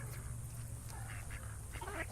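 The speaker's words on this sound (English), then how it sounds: "Look at all those ducks, guys." Ducks quacking softly in the distance, a few short scattered calls over a low steady background hum, faint and intermittent.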